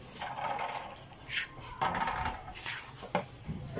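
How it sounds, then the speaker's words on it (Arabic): Dishes, pots and pans being washed in a sink on a rooftop, with a grill left soaking in the basin; scattered clinks and knocks with running-water hiss, several sharper clatters near the end, moderately close. "نغسل بقى ايه المواعين على الحط كده."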